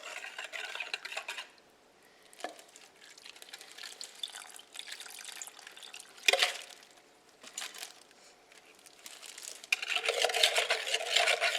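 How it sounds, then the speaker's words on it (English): Pineapple teriyaki sauce is poured over pork chops for a slow cooker, giving a soft wet trickling and splashing close by, with a few clinks of a dish and a fuller pour near the end. "And pour it on the pork chops."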